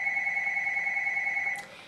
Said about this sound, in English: the phone does tend to ring when I am trying to vlog